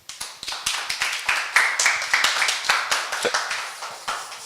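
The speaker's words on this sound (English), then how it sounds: "Please welcome him with an applause." Sparse audience clapping welcoming a conference speaker on GDPR, a small group of hands producing distinct, fairly close claps in an uneven patter that tapers off toward the end.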